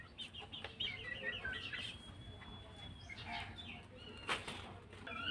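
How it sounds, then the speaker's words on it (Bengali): Household chickens coming indoors, clucking and flapping their wings nearby in a series of short bursts, with a faint voice in the background. "আন্টি মুরগি পালে, মুরগিগুলো ঘরে চলে আসছে।"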